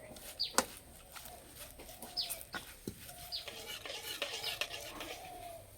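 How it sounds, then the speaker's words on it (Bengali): A spoon stirs soaked semolina with a spoonful of flour in a bowl, giving soft scraping and wet clicks in an uneven rhythm, close and faint, with some background chatter. "ভালো করে একটু মিশিয়ে নেব।"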